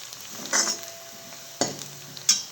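Onion frying in a pan over a wood-fired stove gives a soft, low sizzle, broken by three sharp metallic clinks and scrapes of a utensil against the pan.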